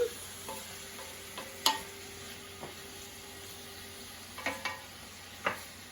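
A new wooden spoon stirs a simmering Campanian Sunday ragu sauce, making a few quiet, scattered knocks and scrapes against the pot over a faint, low bubbling background.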